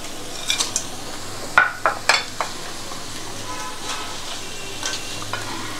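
Spice paste for a beef biryani sizzles softly in a pan while a utensil stirs and scrapes, with several sharp clinks of metal against the pan standing out over the low frying hiss.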